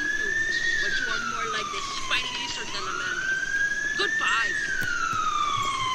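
An emergency vehicle siren in the video game GTA San Andreas wails continuously, its pitch sweeping slowly up and down in long cycles. It sounds loud and close over a low background rumble.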